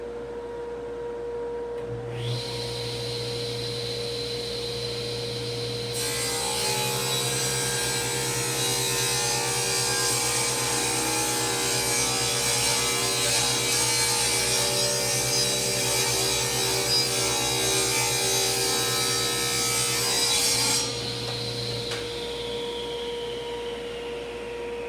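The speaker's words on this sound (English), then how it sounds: "That's an indication that my saw blade needs sharpened and cleaned." A power saw rips through a nice wide wooden board with a dull blade that needs sharpening and cleaning. It makes a steady, loud whine, starting as a quieter motor hum, rising into a sustained cutting roar for about fifteen seconds, then falling back to idle.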